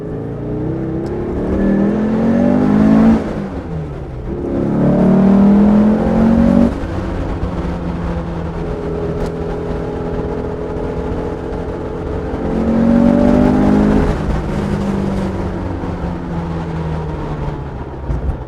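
A car fitted with a restored 2.1 liter engine drives and accelerates, its engine note rising in pitch through repeated up-shifting surges, steady and fairly loud with no talk.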